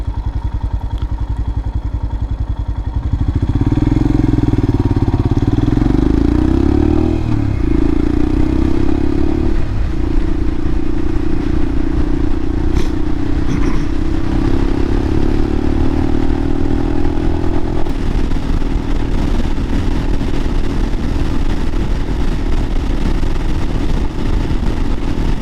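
Royal Enfield Himalayan motorcycle cruising at highway speed, a steady loud engine drone with heavy wind rush, starting from a quieter idle before settling into a continuous hum that shifts pitch slightly.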